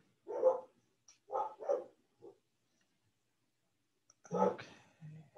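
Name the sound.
dogs barking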